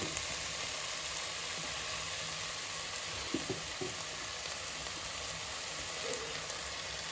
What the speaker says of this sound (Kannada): ಸ್ವಲ್ಪ ಫ್ರೈ ಆಗಿಬಿಡೋಣ. ಒಂದು ಸ್ವಲ್ಪ ಕೊಕೊನಟ್ ಆಯಿಲ್ ಹಾಕೋಣ.